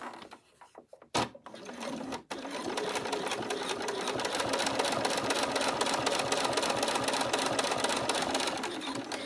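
A sewing machine stitches around the corner of a vinyl strap, running in a steady, close, continuous whir after a few brief stops and starts at the beginning.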